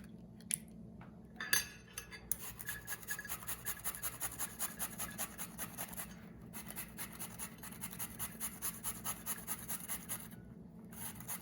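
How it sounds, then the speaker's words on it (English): Zucchini is rubbed against a cheese grater in a quiet kitchen, giving repeated close, soft rasping strokes in an even rhythm that continues without speech. "I'm just gonna take a cheese grater and grate up some of this zucchini."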